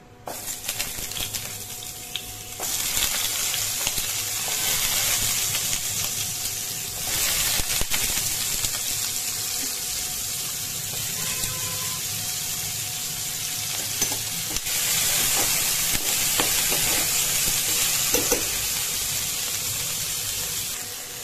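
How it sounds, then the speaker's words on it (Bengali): Pointed gourd and potato pieces fry in hot oil with cumin, dried chilli and bay leaf for khichuri, giving a loud continuous sizzle with surges as vegetables go in and occasional stirring scrapes. "পটল আলুটা আমি একটু আগে ভেজে নেব"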